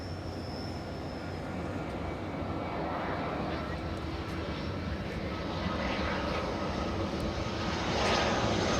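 A Southwest airliner arriving at Los Angeles International Airport roars steadily as broadband jet engine noise, swelling slightly louder near the end as it approaches, with no talking.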